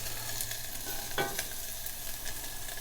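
Onions and garlic sautéing in a pan, a steady sizzle heard alone with one brief clink of a utensil partway through.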